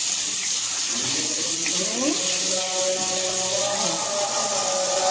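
Kitchen tap water pouring over sliced potatoes, a steady rushing splash that runs continuously and fairly close throughout.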